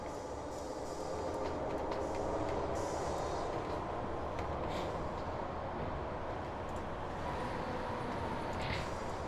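Berlin S-Bahn and Paris suburban trains in the railway simulation game Train Fever give off a steady low rolling rumble and hum at moderate level, continuous and without talk.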